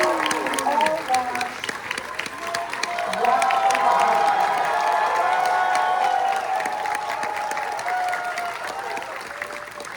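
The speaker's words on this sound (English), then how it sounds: "let's have a huge round of applause for that amazing trailer" An audience at a live Dune: Part Three trailer event with Villeneuve and Chalamet breaks into clapping and cheering after the trailer, sustained and swelling mid-way, with voices and whoops over the applause.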